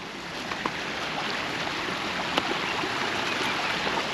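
A river current flows in a steady, broadband rush, close and continuous, with a few faint clicks and splashes over the moving water.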